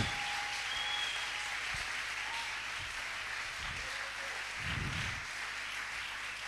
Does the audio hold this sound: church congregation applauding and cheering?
yes